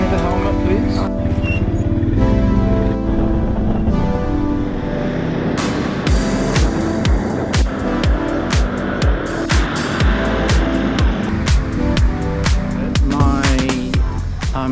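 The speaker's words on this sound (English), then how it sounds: "Gojek ride coming up here was 30 minutes on a bike" A Gojek motorbike taxi ride in Bali: a steady engine drone and road rumble with rhythmic bumps and wind noise, loud and close throughout, with speech heard over it.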